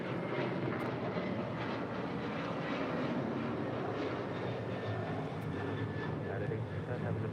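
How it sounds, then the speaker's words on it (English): A United Boeing 737-900ER jet departing from LAX, a broad steady engine roar rumbling at middle distance with no clear rise or fall in loudness. "That is United 1810 departing to Houston Intercontinental on a 737-900 ER"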